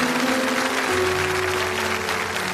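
A church congregation at a Mass applauds in a loud, continuous wash of clapping, with sustained musical tones sounding underneath throughout.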